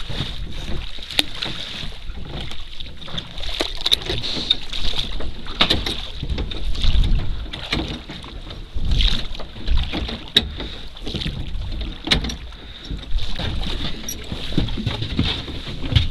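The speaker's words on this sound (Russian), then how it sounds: "теперь разворачиваю лодку, чтобы было удобнее гребсти" A small boat is rowed on open water while netting omul fish in Yakutia, with repeated oar knocks and splashes over wind noise, close and steady; no one speaks.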